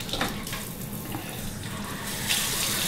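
Tap water streams steadily into a cup in a home kitchen while making chicken pot pie, a continuous close splashing hiss with no talking.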